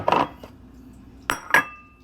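Macaroni fruit salad with fruit cocktail and kaong being stirred in a bowl: a few sharp clinks and knocks of a utensil against the dish, spaced apart with quiet gaps, close by and without talk.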